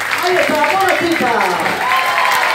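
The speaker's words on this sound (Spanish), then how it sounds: "fuerte el aplauso, fuerte el aplauso" Crowd applause at a sea lion show, sustained clapping from the stands mixed with a loud announcer's voice and cheering over it.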